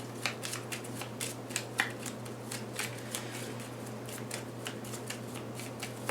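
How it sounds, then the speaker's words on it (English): Magnum Opus game cards are shuffled by hand, a steady run of quick papery riffles and clicks, close up and alone. "The next thing you'll want to do is shuffle up the rest of them really"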